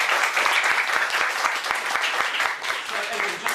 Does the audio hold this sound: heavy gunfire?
no